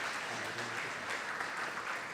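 Audience applause at a Krishna temple Bhagavad Gita Jayanti service, a steady, fairly faint wash of clapping that continues evenly for the whole short stretch.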